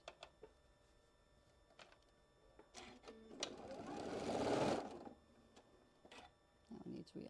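A sewing machine stitches across quilt fabric in one short, close burst of rapid whirring, set between quiet handling noises, with a voice talking nearby.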